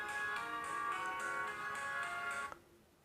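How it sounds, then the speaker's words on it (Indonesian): A phone ringtone plays a bright electronic melody of repeating tonal pulses for a few seconds, then cuts off abruptly, leaving quiet room tone. "Sebentar ya, ada telepon."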